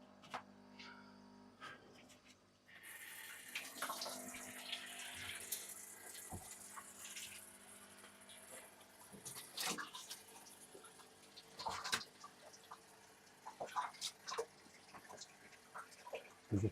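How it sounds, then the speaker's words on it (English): Water from a hose or tap is switched back on and runs steadily into a fish tank in a fish room. It is a loud, continuous splashing rush that begins abruptly after a quiet moment and carries on with small clinks and knocks. "let's turn the water back on"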